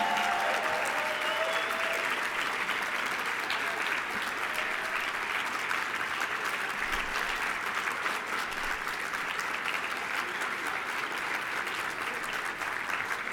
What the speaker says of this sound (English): I want to start off with giving a big round of applause to the Convention Center staff